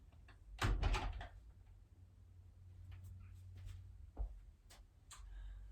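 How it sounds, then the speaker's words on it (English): An indoor door is pushed shut with a single soft thud, followed by faint knocks and shuffles in a quiet room during a floor exercise session. "I'm just going to close my door."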